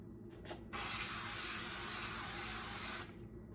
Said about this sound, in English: some of this 0-calorie cooking spray.